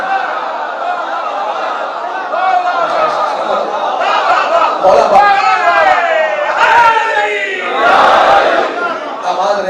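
A crowd at a Muharram religious gathering chants slogans in loud unison, voices rising and falling in waves with a few bursts of louder shouting, close and strong for the whole stretch.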